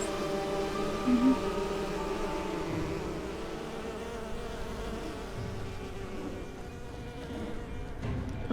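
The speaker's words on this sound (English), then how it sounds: "Bees." Bees buzz in the video game Enderal, a Skyrim mod, as a continuous soft insect drone that holds fairly steady throughout, with no speech.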